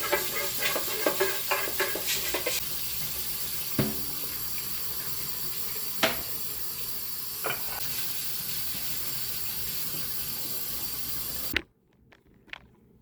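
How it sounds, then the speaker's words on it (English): Hot water runs from a tap into a container being rinsed, a steady close hiss and splash punctuated by knocks and clinks of the container, before the flow cuts off abruptly near the end. "We'll just run some water in it, hot water, swoosh it around, some soap."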